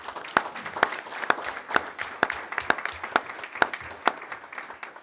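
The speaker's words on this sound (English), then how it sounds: "So if we can give all of these employee groups a round of applause." A board of education meeting audience gives a round of applause, steady rhythmic clapping from a modest crowd in a room, fairly close and clear, with no talking over it.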